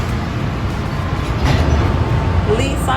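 Airport train departing, a steady low rumble of the rail car that swells slightly midway, with faint squeals near the end.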